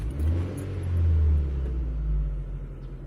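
A 2003 Mitsubishi Lancer ES engine turns over and catches after a new battery is fitted, settling into a low, steady rumble with a slight swell in revs, close by and without talk.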